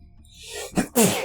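A single close sneeze: a building inhale that rises over most of a second, then a sharp, loud burst of breath.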